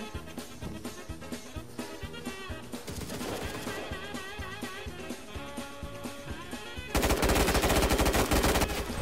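Rapid automatic gunfire from the battle royale game CRSED rattles in dense bursts over a busy in-game soundscape, swelling into a louder sustained volley near the end.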